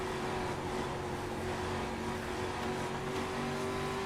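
A street stock race car engine at Five Flags Speedway revs hard and holds high RPM, giving a steady, dense roar with a sustained tonal whine for a few seconds and no voices.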